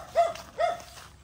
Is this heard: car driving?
no